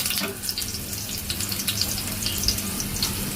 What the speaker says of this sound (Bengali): চুলার আঁচ মাঝারি রেখে পেঁয়াজ আর মরিচ হালকা সফট ও হালকা গোল্ডেন হওয়া পর্যন্ত ভেজে নেব